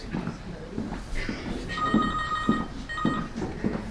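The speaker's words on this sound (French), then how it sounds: "Il y a un téléphone là, je pense." A telephone rings in a lecture hall during a talk, its repeated electronic trill sounding several times at moderate distance under a man's ongoing speech and room noise.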